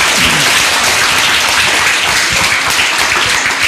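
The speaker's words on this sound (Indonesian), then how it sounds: "beri tepuk tangan untuk pertanyaan yang kedua" A debate audience bursts into dense, loud applause, many hands clapping together in a steady, sustained wash from start to finish.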